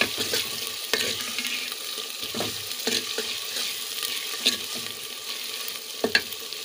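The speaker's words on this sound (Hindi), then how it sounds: "अब इसे हम 2 से 3 मिनट तक भून लेंगे अच्छे से" Spices fry for dal in a pan, giving a steady close sizzle with intermittent spoon scrapes and taps as they are stirred.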